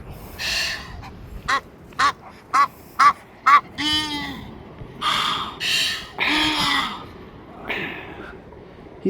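Several ducks call in a yard where birds are being fed seed and bread, with loud, repeated harsh quacks, a rapid evenly spaced series of short calls followed by longer raspy ones, close by, with brief talk in between.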